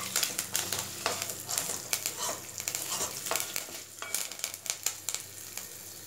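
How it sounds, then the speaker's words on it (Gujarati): A spoon scrapes and stirs ginger and four dried red chillies frying in a pan for South Indian sambar, with repeated clattering strokes over a continuous crackling sizzle, close and fairly loud. "બધું બરાબર મિક્સ કરી લઈશું."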